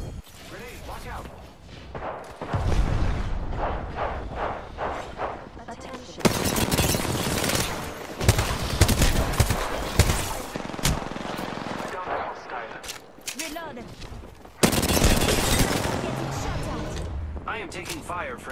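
Gunfire from the video game Apex Legends: bursts of loud shooting and blasts come in heavy stretches, with crashing impacts and talk over the top.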